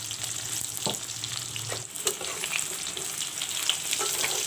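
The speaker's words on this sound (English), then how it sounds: "The bananas also are fried up." Green banana pieces fry in hot oil with a steady, dense sizzle and crackle, broken by a few light stirring clinks, and no voices are heard.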